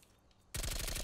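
Suppressed submachine gun firing in Call of Duty Cold War, a rapid burst of muffled shots starting abruptly halfway through and continuing steadily, loud and close.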